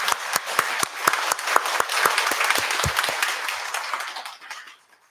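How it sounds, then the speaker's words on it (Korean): Church congregation at a Sunday service in Daegu, Korea, applauding the choir and its conductor: dense, steady clapping from many hands with a few sharp individual claps standing out, fading away over the last second. "우리 찬양 대원들, 우리 한 해 동안 수고 좀 해주시라고 우리 박수 한번 해드릴까요?"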